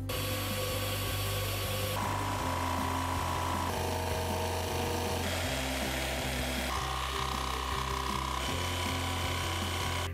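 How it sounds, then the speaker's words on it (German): A power drill whirs continuously up close, boring a hole in the wooden front panel of an IKEA Kallax shelf, its pitch stepping between speeds as it bores, with grinding, rasping texture throughout. "bohre ich mir jetzt hier erstmal ein Loch"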